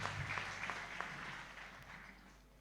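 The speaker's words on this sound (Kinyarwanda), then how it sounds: "Tumukomera amashyi umusomyi wacu mu izina rya Yesu" A church congregation applauds the reader in a brief, soft round of clapping that sounds fairly distant and fades out over a few seconds.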